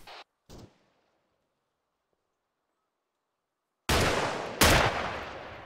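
Gunfire in a military video game firefight: two short muffled shots, a stretch of silence, then two loud, close, sharp bursts with ringing decay.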